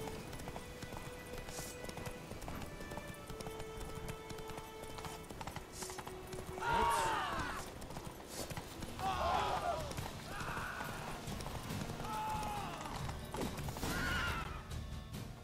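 A horse gallops in the video game Witcher 3, its rapid clip-clop hoofbeats running steadily at moderate volume, with occasional whinnies and snorts, while a person talks over the gameplay.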